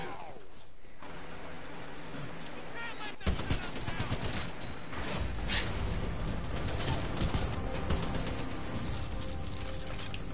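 Rapid automatic gunfire in a PS4 shooter game, a long loud stream of sharp cracking shots after a brief quieter lead-in, steady and close with scattered louder bursts.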